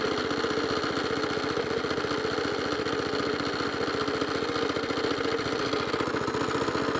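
A Suffolk Punch Atco mower with a Kawasaki FJ100 engine idles steadily, a close, even mechanical putter running unbroken throughout with a fine rapid pulse.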